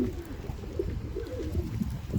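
Pigeons coo steadily in low, soft, rolling calls, several overlapping close by, with no talk over them.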